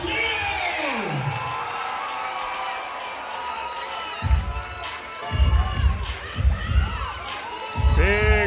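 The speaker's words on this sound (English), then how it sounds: "Big round of applause for Hector El Diablo Pulido" A fight-night crowd at a State Line Rumble cage event cheers and whoops for fighter Hector El Diablo Pulido, a steady roar with louder surges and low thumps toward the end, blended with an announcer's voice.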